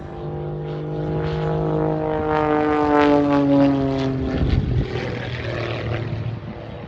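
A jet-powered Pitts S2S aerobatic biplane flies a display at the Midlands Air Show, its engine a loud, sustained drone with pitch shifting up and down as it climbs and snap rolls overhead, with no voices heard.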